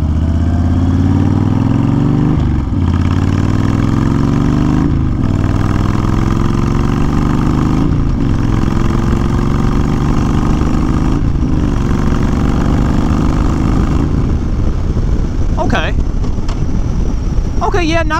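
A 2020 Honda Fury motorcycle fitted with a Cobra fi2000 fuel tuner pulls away on wet roads; its loud, close engine rises in pitch through repeated gear shifts, each marked by a short dip, before easing off near the end.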